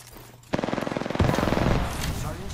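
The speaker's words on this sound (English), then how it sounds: "They're shooting at me." Rapid automatic gunfire in Apex Legends starts abruptly and continues as a close, rhythmic stream of shots, then grows heavier and more layered toward the end.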